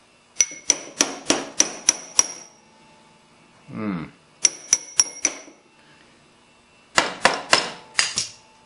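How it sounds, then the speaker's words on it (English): A small hammer gently taps to free a heel bone from talons, coming in quick bursts of sharp, close metallic clicks, with a short scraping pause between bursts. "Use some gentle tapping to free the calcaneus from the talons."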